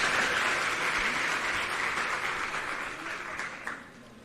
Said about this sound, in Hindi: एक बार जोरदार तालियों से आइए हम अभिनंदन और स्वागत करें